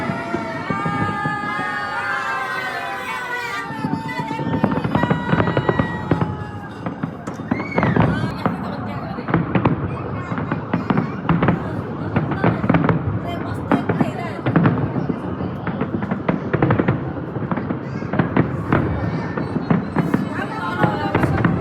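New Year fireworks burst all around over Lisbon, Portugal, as seen from a home: loud, repeated bangs and crackles, some whistling upward, keep going throughout while people talk and voices rise in the background.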